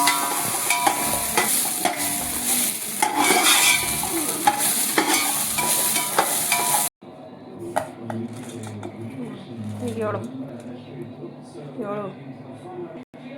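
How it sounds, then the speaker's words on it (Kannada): Cinnamon, cloves and chillies dry-roast in a pan for vegetable palav, with bright scraping and rattling as the spices are stirred, then a quieter, softer stretch while a voice talks. "ಚಕ್ಕೆ ಸ್ವಲ್ಪ, ಲವಂಗ 4, ಸ್ವಲ್ಪ ಮೆಣಸಿನ್ಕಾಯಿ, ಡ್ರೈ ಎಲ್ಲ ಹುರ್ಕೋಬೇಕು"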